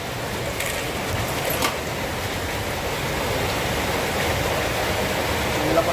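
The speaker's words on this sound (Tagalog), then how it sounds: "Lakas ng ulan." Heavy rain pours down steadily, a dense, even hiss of drops on surfaces, loud and close, with no break or talk across the stretch.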